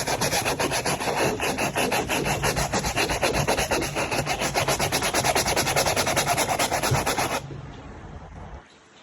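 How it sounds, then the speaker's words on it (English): A cheap brush scrubs a car sun visor in fast, rhythmic back-and-forth strokes, close and loud, then stops abruptly near the end. "you're gonna get it, you're gonna start scrubbing."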